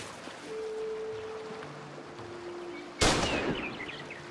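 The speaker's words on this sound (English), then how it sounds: "I'm gonna have to go ahead and shoot this hunter." A single loud gunshot rings out in a crafting and survival first-person shooter game as a hunter is shot, a sharp crack with a short echoing tail that follows several seconds of quiet ambient wilderness sound, with no one speaking.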